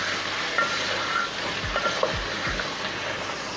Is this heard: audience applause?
no